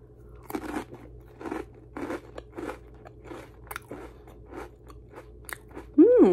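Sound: crunching a pretzel dipped in thick spinach dip

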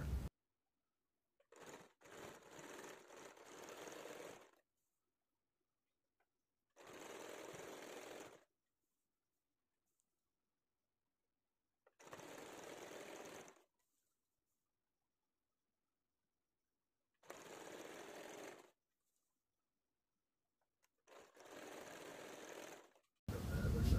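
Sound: sewing machine stitching a saree lehenga

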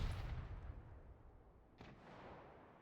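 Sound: artillery fire in a video game

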